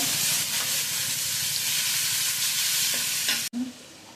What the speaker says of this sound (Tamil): பொடியான நறுக்கின பூண்டு போட்டு நல்லா வதக்கிக்கோங்க